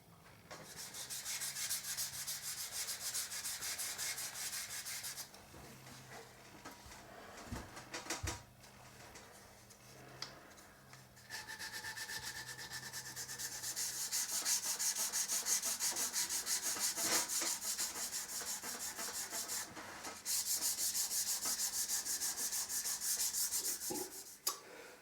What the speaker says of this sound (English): sand it down using 500 abrasive paper so that you don't put any deep scratches into that finish